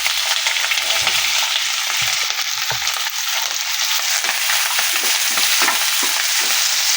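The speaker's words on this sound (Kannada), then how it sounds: "ನೋಡಿ ಈರುಳ್ಳಿ ಫ್ರೈ ಆಗಿದೆ" Onion, chana dal and curry leaves frying in oil, a steady loud sizzle with scattered soft stirring clicks and pops running throughout, no voices.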